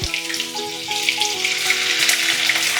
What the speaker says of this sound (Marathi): आपलं तेल तापलेलं आहे आपण लसूण टाकू आलं पण टाकूया